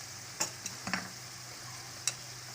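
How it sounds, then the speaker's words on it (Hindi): Green chillies go into a pan of tomato paste and fry quietly, a soft sizzle broken by a few sharp spatula taps and stirring clicks, with no one speaking. "अब हम इसमें सब्ज़ मिर्चें डालेंगे।"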